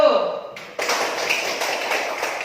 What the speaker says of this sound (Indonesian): Silakan berikan aplaus untuk kelompok 1.